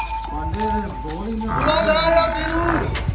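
A buffalo on a dairy farm gives a loud, drawn-out moo close by, with a second lower bellow following, while people talk nearby.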